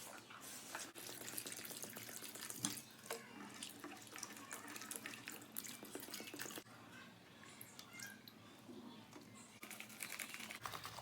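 Tap water running over cut potatoes being washed in a kitchen, a steady close splashing stream with small clicks and knocks of the potatoes and bowl, moderately faint.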